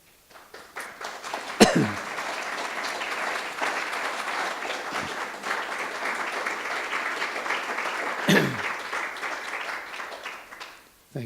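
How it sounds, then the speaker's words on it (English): Audience applause after a poetry reading at a literary event, a long, steady round of clapping that swells quickly and holds at even strength before tapering off, with a few sharp knocks along the way. "You don't need to clap every time if you don't, but I do appreciate it."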